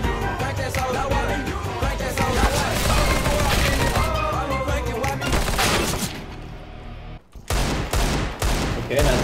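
Rapid gunfire in CS:GO, loud bursts and single shots packed closely for about six seconds, then a brief lull before a few more sharp shots.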